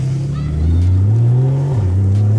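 A Porsche pulls away after the handbrake is released, its engine humming loud and close in a low steady tone that rises, then dips as it shifts, with a faint voice underneath.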